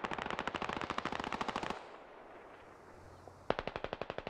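Automatic gunfire in the military video game Squad: a long rapid burst of close shots, a short lull, then another sharp burst of rapid fire.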